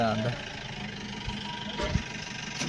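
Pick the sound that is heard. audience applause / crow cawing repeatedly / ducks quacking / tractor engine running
tractor engine running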